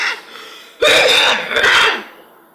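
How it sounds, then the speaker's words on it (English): A short burst of harsh coughing up close, two or three rough hacks in quick succession after a quiet breath. "you're coughing, aren't you?"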